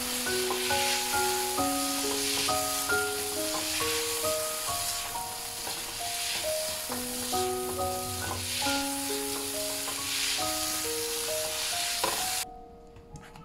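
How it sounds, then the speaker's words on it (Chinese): Diced potatoes with red pepper stir-fried in a wok, a continuous soft sizzle and stirring hiss running beneath a light melodic music track. "翻炒2分钟"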